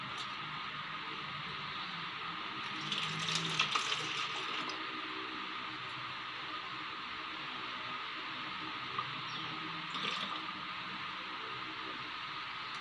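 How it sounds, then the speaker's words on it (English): Vinegar pours through a funnel into a plastic bottle with a steady hiss of running liquid that lasts the whole time. It brightens briefly twice as the stream splashes and gurgles. "Pour the vinegar into the bottle."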